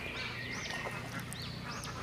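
Laying ducks on a farm quack and call repeatedly in a busy chorus, several overlapping nearby voices over a steady background noise, with no talking.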